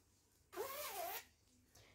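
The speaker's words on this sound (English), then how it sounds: "you take it and zip it up" A jumper's zipper is pulled up in one quick, continuous zip lasting under a second, close and clear against a quiet room.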